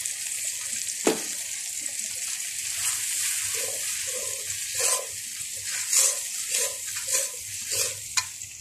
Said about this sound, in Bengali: দিয়ে আমি মশলাটাকে ভালো করে কষিয়ে নিব।